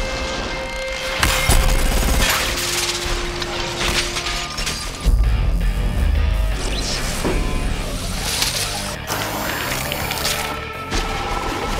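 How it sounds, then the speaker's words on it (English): Breaking glass explodes outward in an ever-expanding circle as a film effect, a loud, dense mix of crashes, shattering and swishing debris with heavy impacts that keeps going for about twelve seconds, with no talking. "We wanted the glass to explode in sort of an ever-expanding circle"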